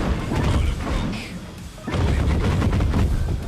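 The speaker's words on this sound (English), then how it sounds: "GDF airstrike clearing the way." GDF airstrike explosions in the Tempest Dynasty game, a dense, loud barrage of booms and crashing blasts that rolls on almost without pause, dipping briefly midway before surging again.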